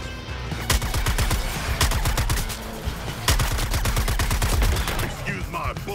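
Gunfire in Suicide Squad: Kill the Justice League, long rapid automatic bursts repeating across the whole stretch, loud and dense, with brief pauses between volleys.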